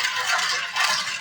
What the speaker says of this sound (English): that sound you hear, those are the grains of sugar